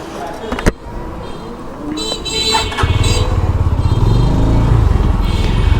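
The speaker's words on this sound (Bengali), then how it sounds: "তো এই হলো ঢাকার অটোরিকশা" Dhaka street traffic with auto-rickshaws, a steady close motor drone that grows louder and denser partway through, with a sharp knock early on and brief horn-like tones, and a voice talking over it.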